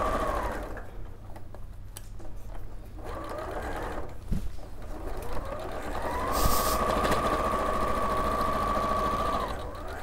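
Sewing machine stitching the handles of a jubilee apron or tote bag, a steady fast whirring run that rises and holds for several seconds, up close with no voices.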